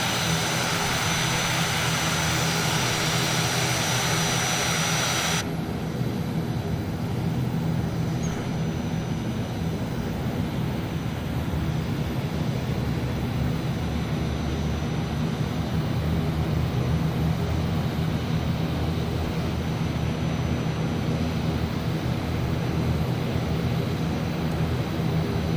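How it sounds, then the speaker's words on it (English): An ATR-72-600 turboprop engine runs in Microsoft Flight Simulator, a steady loud droning hum with a high whine that drops away early, then a constant low propeller rumble continues alone. "prop brake is definitely off because that engine is turning"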